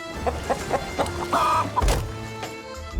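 Chickens cluck in a pirate video game that includes chicken trading, giving a series of close, loud clucks and squawks in an irregular rhythm, with a thump near the end.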